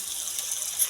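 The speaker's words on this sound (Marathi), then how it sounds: "तर बघा आता आपण घातलं ह्याच्यामध्ये पाणी." Water gushes briefly and steadily into a pot of khichdi holding moong dal and rice, a soft close pour without talk.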